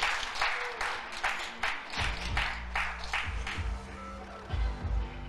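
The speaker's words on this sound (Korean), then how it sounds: "웰뱅 피닉스 같은 팀 소속의 김예은 선수가 이상대 선수 득점하자 큰 박수 보내줍니다" Spectators clap after a scoring shot at a professional three-cushion billiards tournament, a moderate round of applause rising and falling in bursts for several seconds.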